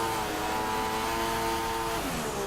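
Formula 1 race car in the F1 2016 game at Abu Dhabi doing burnouts, a loud continuous high engine whine held steady, then dropping in pitch near the end, close and unbroken.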